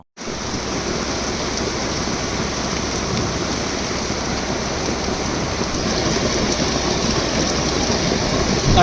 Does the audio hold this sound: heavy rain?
yes